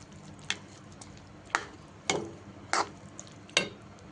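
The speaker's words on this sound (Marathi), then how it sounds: "आता तुम्ही सगळ्या फ्राय केलेल्या भाज्या टाकून घ्यायच्या आणि दोन मिनटं पण चांगल्या परतायत" Fried vegetables being sautéed in a pan for veg dum biryani: five sharp, separate spatula scrapes and knocks against the pan over a faint, quiet sizzle, with no voices.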